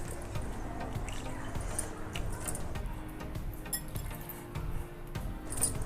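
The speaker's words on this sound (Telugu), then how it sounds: "ఇప్పుడు కొన్ని నీళ్ళు పోసుకుంటూ పిండి తడుపుకుందాం" Wheat flour dough for chakli is mixed by hand with oil while water is poured in, giving soft wet squelches, light drips and faint clinks of a vessel close by.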